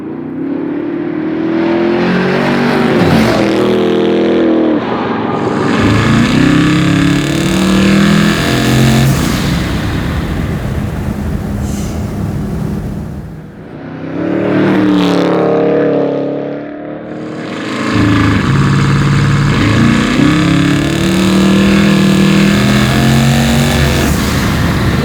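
A 1,600 hp twin-turbo Chevelle restomod engine roars loud and close, revving hard and accelerating in two long bursts separated by a brief dip back toward idle.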